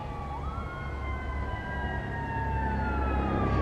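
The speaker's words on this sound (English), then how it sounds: "And I apologize for all the sirens and things." Emergency vehicle sirens pass by outside an abandoned Ryan's restaurant, a steady wailing tone that swells a little louder toward the end over background traffic rumble.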